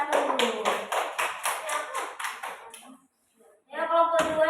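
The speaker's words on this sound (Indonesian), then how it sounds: "Tepuk tangan untuk kelompok 1." Classroom applause for a student group, a run of rhythmic, fairly close hand claps for about three seconds, a brief pause, then more clapping and a voice at the end.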